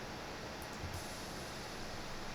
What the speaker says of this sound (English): I have this just white noise exhaust downlifter